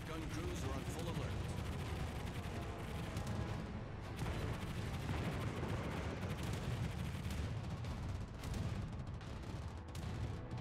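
Dense, continuous anti-aircraft gunfire from a warship in World of Warships, rapid bursts and booms layered together and running the whole length at a fairly low level, with voices occasionally audible underneath.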